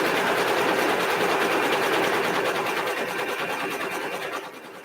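A sewing machine runs steadily with its needle threaded, a dense continuous mechanical whir holding level for nearly five seconds before easing off slightly at the end, with no voices.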